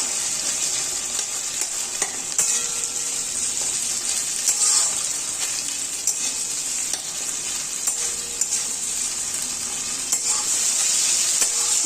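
Chopped tomatoes fry in a pan for a bottle gourd kofta curry, a continuous bright sizzle broken by the repeated scrape and clatter of stirring.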